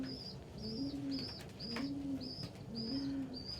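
Pigeons coo in a steady repeating pattern, about one low rolling coo every second, with sharper high peeps rising above them, close and clear against a soft background hiss.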